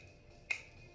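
A single crisp finger snap cracks out once, close and sharp, against a quiet room.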